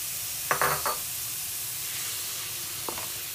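Kimchi fried rice sizzling in a pan under a steady hiss, broken by a few quick scraping stirs at the start and one more near the end.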